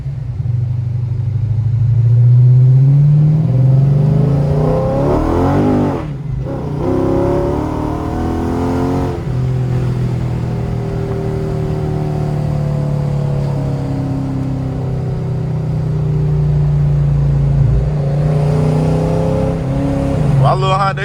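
A loud modified Chrysler SRT engine revs and rumbles up close in deep, sustained bursts as the car accelerates, with a brief drop in the middle and a voice talking over it.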